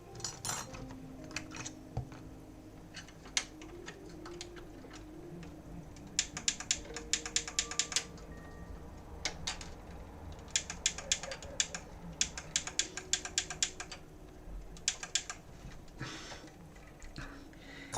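Xbox 360 console being opened and worked on, with small plastic buttons clicking in quick bursts of sharp ticks over a low background hum, fairly faint and close, no talk.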